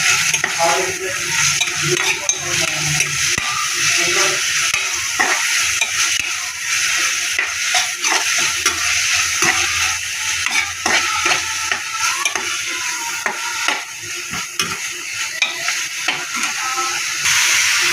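Thinly sliced onions, green chilies and curry leaves fry in a pan with a loud, continuous sizzle and hiss, punctuated throughout by close stirring clinks and scrapes.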